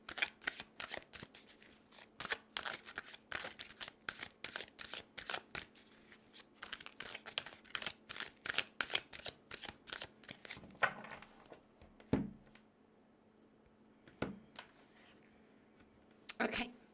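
Reading cards being shuffled during a live personal card reading: brisk, rhythmic riffles and flicks repeat steadily for about ten seconds, then a few sparser card slaps and taps follow, close and fairly quiet.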